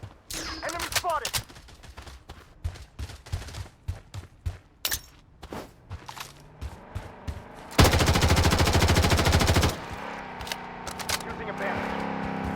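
Gunfire in the video game Blood Strike during a ranked match: scattered single shots and bursts, then a long sustained automatic volley, loud and close, with game voice callouts between.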